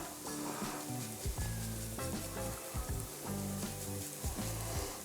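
Garlic frying in a pan for a quick shrimp pasta, a loud, continuous close sizzle and crackle with uneven bursts of spitting throughout and no talking.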